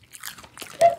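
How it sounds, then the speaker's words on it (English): Popcorn chewed right up against a microphone, giving a short series of crisp, close crunches with one louder bite near the end. "But you have popcorn on your microphone."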